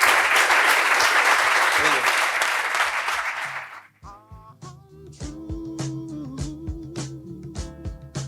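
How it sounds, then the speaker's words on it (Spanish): Loud, dense audience applause for about four seconds, then it fades as music begins. "le tenemos que despedir con un fortísimo aplauso"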